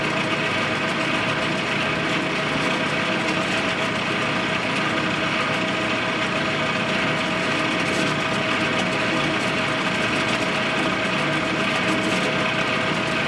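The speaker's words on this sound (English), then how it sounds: "Got a dull drill bit too. So she's gonna chatter and squeak." Dull drill bit chattering and squeaking as it bores through metal, a steady loud whirring grind with a rough rattling edge sustained throughout, close and without talk.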